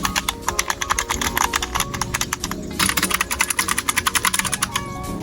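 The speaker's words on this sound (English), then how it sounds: "this is a sound test between the membrane keyboard and the mechanical keyboard" Rapid typing on a Five Below 60% membrane keyboard, a dense stream of soft, muted key taps with brief pauses and occasional quicker bursts, close and alone.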